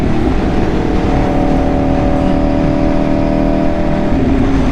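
V4 motorcycle engine revving steadily, a loud, close, continuous growl that holds for several seconds with no speech.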